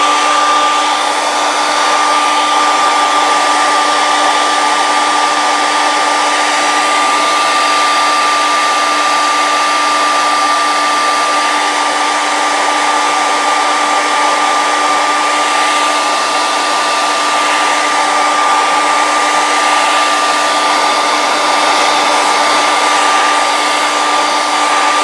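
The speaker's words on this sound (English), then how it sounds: "Okay, so I'm going to blow dry this before I can do my stencil." A hair dryer blows steadily on wet acrylic paint before stenciling, a loud, unbroken whirring roar with a constant high whine that runs alone for the full length without pause.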